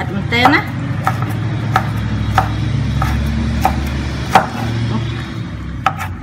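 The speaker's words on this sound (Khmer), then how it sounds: "ហាន់ល្អិតដូចយើងច្រាមខ្ទឹមសអញ្ចឹង" A knife chops ingredients finely on a wooden board in a village kitchen preparing stuffed bitter gourd with pork, a steady series of sharp close taps about once every half second, with a voice talking over them.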